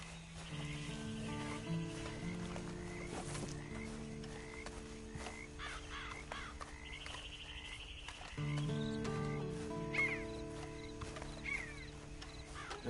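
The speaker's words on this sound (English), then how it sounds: "you better get on this horse" A horse clip-clops along in the video game Red Dead Online, its hooves faint under game music, animal calls and layered ambient sound.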